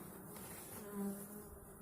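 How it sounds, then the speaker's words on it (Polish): Dense, steady buzzing of many agitated bees close by at the hive, a continuous droning hum with no talking. "Ile pszczoły, proszę Państwa."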